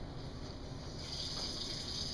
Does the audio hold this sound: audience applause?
no